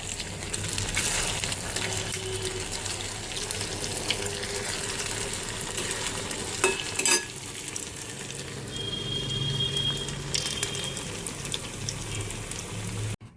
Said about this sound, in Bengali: আবার যে কটা আছে সে কটা ভেজে নেব।